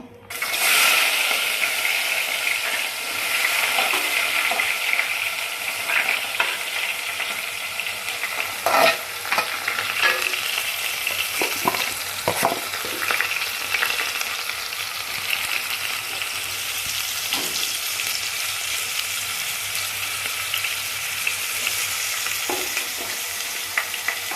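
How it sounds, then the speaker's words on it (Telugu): Sliced onions and green chillies fry in hot oil for a chicken drumstick curry, a steady close sizzle throughout, punctuated now and then by scrapes and clinks of a stirring spoon. "ఆయిల్ ఆయిల్ అండి ఉల్లిపాయ పచ్చిమిరకాయ వేసుకున్నాం"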